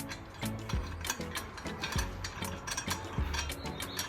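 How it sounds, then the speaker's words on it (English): Ratcheting driver with a star bit tightening small mounting screws for a BooneBox PowerPole mount, steady clicking pawl with periodic heavier turns, close and loud. "you're going to take your screws, your little ones right there, and you're going to put them in"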